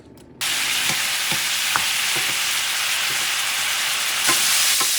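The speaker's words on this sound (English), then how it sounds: "I'm going to start adding the shrimp." Shrimp hitting a preheated pan and sizzling loudly, a sudden burst of dense frying hiss that holds steady, with small clicks and taps scattered through it.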